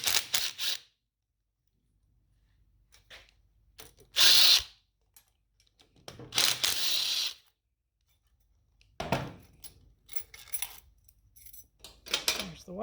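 Power tool removing the 8mm stator screws on a Honda Ruckus engine, sounding as a few short, loud whirring bursts separated by quiet gaps, with small ratcheting and clinking bits between.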